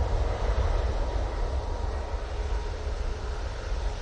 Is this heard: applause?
no